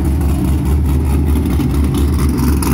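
A freshly cammed 2005 Corvette C6 with an LS2 V8 and a Texas Speed Chop Monster Cam revs loudly and close, a deep lumpy engine note that stays strong and steady throughout, with no talking.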